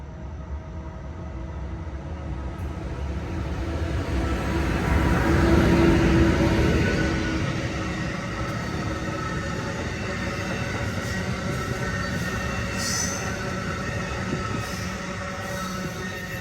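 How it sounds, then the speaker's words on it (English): A train rumbles past slowly and steadily, swelling louder midway before settling into a long continuous roll with faint high screeching. "Hence also why that train was going pretty slow."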